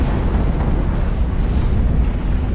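Artillery shells and rockets exploding in the video game HighFleet, heard as a dense, continuous low rumble of heavy booms blending into one another, loud and with no pause throughout.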